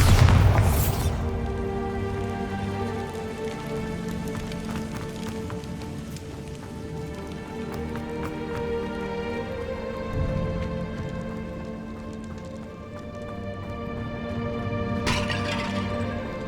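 A Bombarda blasting spell in Hogwarts Legacy detonates with a loud boom, sending debris shattering and pattering down, then a second burst follows over a sustained orchestral score.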